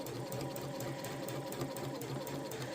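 A hand-cranked sewing machine stitches the seam of a fabric zipper pouch, giving a steady, close, even whir with fast repeating needle ticks. It runs alone without a break.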